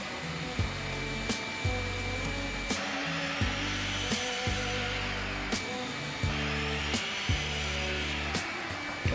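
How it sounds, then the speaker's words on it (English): A miter saw cuts wooden pickets to length, its motor whining steadily while blade bites repeat in regular strokes every second or so, loud and close with no voices. "I'm going to square my miter saw back up and cut both of those pickets"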